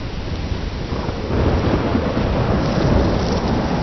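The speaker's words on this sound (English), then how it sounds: "I'm trapped in a storm?" A heavy storm with thunder and rain in the video game Life Is Strange, with dense pouring rain and a deep rumbling roll that swells louder partway through and keeps going, with no voices.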